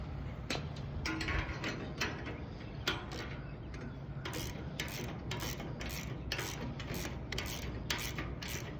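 Bolts being tightened by hand on a timber head section of a barge fall-protection structure, giving steady ratcheting and metallic clicking with rubbing scrapes, close and continuous throughout with no talk.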